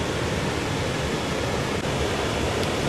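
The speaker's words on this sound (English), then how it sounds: "the water just flows over the low water dam here that they have" Fort Creek pours over a low water dam beside a pump intake structure, producing a steady, loud, broadband rush that fills the whole stretch without pause.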